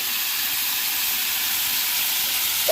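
Vegetable stalks hiss in a hot curry pan, a steady broad sizzle that holds evenly throughout with no voices.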